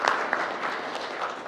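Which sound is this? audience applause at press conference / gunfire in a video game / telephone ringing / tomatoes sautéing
audience applause at press conference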